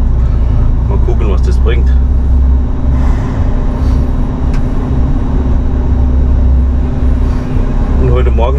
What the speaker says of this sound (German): Mein LKW läuft wieder